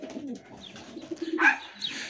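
Pigeons coo on a rooftop terrace in central Kayseri, with several soft, throaty calls rising and falling close by, a busier cluster near the middle and another toward the end.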